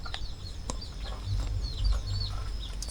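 Chickens clucking nearby, several short soft clucks and chirps scattered over a low steady background rumble, with no talking.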